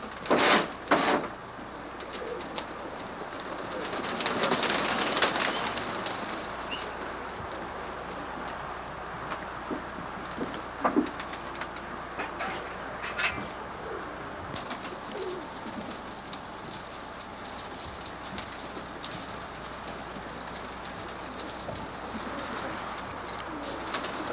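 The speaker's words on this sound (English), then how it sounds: "I saw some real nice birds" English Roller pigeons at a loft, with soft cooing and bird calls spread through a steady outdoor background, plus a few louder bursts of fluttering or movement near the start.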